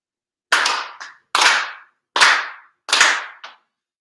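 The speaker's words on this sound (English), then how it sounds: "4 sincere claps along with the head officiant" Four sharp ritual hand claps ring out at a Shinto monthly ceremony, loud, close and evenly spaced, each followed by a short echoing tail in an otherwise silent room.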